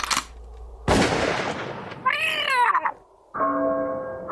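A cat in a comedy sketch lets out a drawn-out, wavering yowl, bracketed by loud thuds and gunfire-like bangs, followed by a steady tonal hum.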